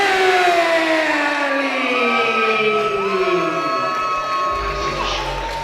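Boxing arena crowd roaring and cheering as James Brealey makes his ring entrance at a PBL12 fight night, a loud sustained wash of noise with rising whoops and whistles, under a booming announcer voice.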